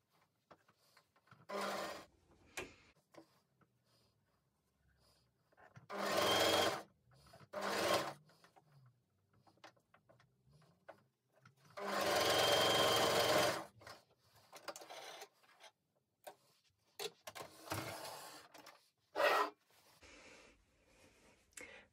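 A sewing machine stitches a pinafore in short bursts of whirring, several runs of a few seconds each and one longer steady run, with quiet handling sounds in the pauses.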